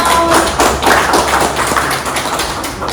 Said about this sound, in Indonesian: Tepuk tangan buat Sardenti Quinos